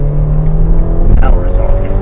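A Ferrari Portofino engine blips and revs through quick up and down gear shifts, loud and close, with a steady harmonic drone that rises and falls across the changes.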